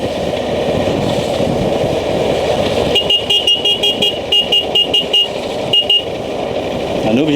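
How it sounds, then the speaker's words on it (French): Car horn honked in a quick series of short toots at a cycling race, the Grand Prix de l'USL, loud and close over crowd noise and engine rumble. "On est obligé de klaxonner à mes sportifs."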